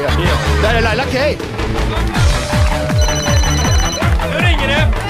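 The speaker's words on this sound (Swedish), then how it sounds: "Nu ringer det." Telephone bell rings repeatedly during a busy live radio rally broadcast, loud and clear through music and crowd noise, with voices talking over it.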